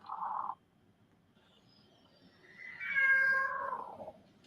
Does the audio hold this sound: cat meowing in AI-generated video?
yes